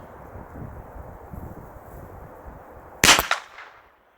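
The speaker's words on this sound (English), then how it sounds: "let's go ahead and take the first shot" A single sharp rifle shot cracks outdoors during boresighting, loud and close, with a short echo trailing off after a stretch of low wind and rustling background.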